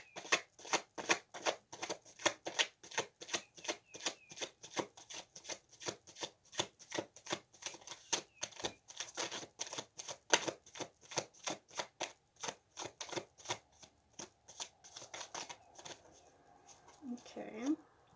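Tarot cards are shuffled in quick, steady bursts of crisp riffling slaps, repeating close up for nearly the whole stretch before a brief handling pause.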